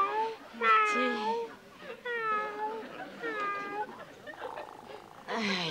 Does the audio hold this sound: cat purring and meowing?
yes